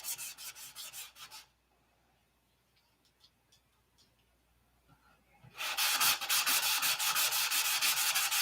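Sandpaper rasps rhythmically back and forth, taking primer off a surface. Quick strokes come up close, then about four seconds of near quiet with faint taps before steady, louder sanding resumes.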